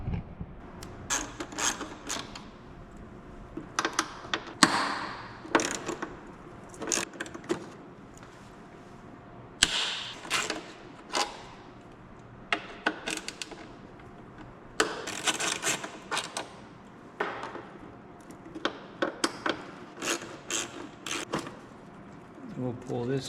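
Socket wrench ratchet working on headlight bolts of a Harley Road Glide, with short bursts of sharp ratcheting clicks and metallic handling, scattered across the clip with pauses between.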